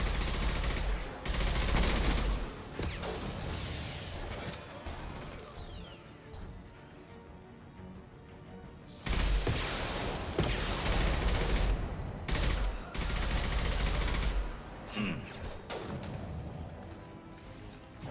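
Heavy Mass Effect 2 gunfire rattles in long automatic bursts with crashing impacts, loud and near, pausing briefly before erupting again in several volleys.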